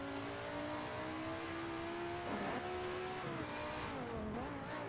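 A V10 car engine on a motorsport outing revs up and down with a steady harmonic whine, pitch rising and dipping several times, loud and close.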